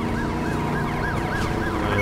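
Police car sirens wail in a car chase in Driver San Francisco, a rapid repeating up-and-down whoop, loud and close over road and engine noise, with no talk.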